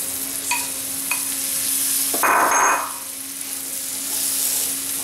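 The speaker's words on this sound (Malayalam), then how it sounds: "നമുക്കതിലേക്ക് നമ്മുടെ മെയിൻ ഇൻഗ്രീഡിയൻ്റായ ലിവർ ഇട്ട് കൊടുക്കാം" Pieces of liver go into a hot pan with chilies for a liver fry, setting off a sudden burst of sizzling that then settles into a steady fry, with a few utensil clinks before and after.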